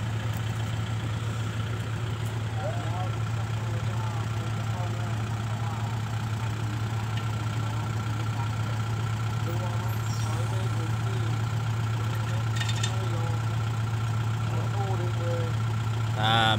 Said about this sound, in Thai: ไม่ดึงเข้านี่หนักรถไถนะครับต้องดึงเข้าครับ